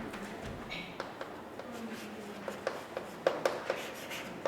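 A pen scratches steadily across notebook paper while writing an exercise number, with soft strokes broken by light taps and ticks. The writing is close and clear, with no speech.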